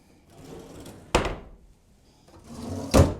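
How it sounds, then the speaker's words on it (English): A hotel room drawer at the Rio All Suite Hotel & Casino in Las Vegas slides open and shut, two close wooden scrapes ending in sharp thunks about two seconds apart, with no talk. "So over here we got some drawers."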